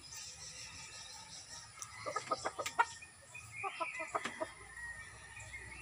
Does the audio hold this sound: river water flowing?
no